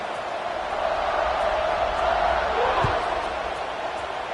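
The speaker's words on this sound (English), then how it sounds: "this crowd is buzzing after that last score" A football stadium crowd at a Kent State versus Rutgers game buzzes as a steady, broad roar of many voices, loud and continuous, with a brief thump partway through.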